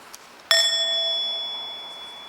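A meditation bell struck softly once, a gentle half-strike that rings out with a clear sustained tone and slowly fades, alone in a quiet room.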